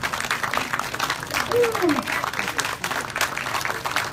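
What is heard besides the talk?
applause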